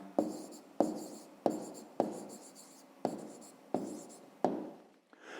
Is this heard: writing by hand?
yes